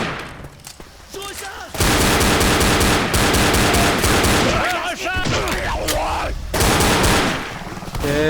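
Sustained rapid automatic gunfire in Left 4 Dead, loud and dense bursts nearly back to back, with short pauses and scattered game voices and effects between them.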